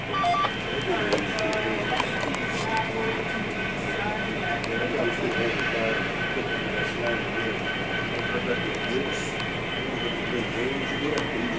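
HO scale model freight train running on a club layout, a continuous rolling rumble with faint clicking from the track, steady and near, while people talk in the background.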